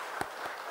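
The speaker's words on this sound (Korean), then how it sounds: "우리 격려의 박수 한번 드리도록 하겠습니다" A church congregation applauds the musicians and singers at a Sunday afternoon worship service, with three distinct soft bursts of clapping over a quiet room.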